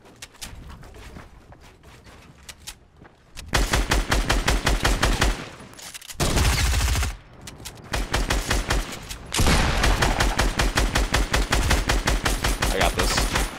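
Rapid bursts of automatic gunfire from a Fortnite match at Salty Springs, loud and close, coming in several sustained volleys separated by brief pauses with lighter shots and game noise between them.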